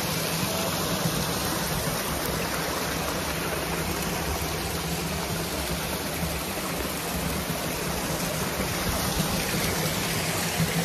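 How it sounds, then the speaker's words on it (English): Middle Black Clough waterfall pours steadily as a continuous broadband roar of falling water, even and unbroken throughout, heard from a short distance with no talking over it. "Look at it, the waterfall you can see from here."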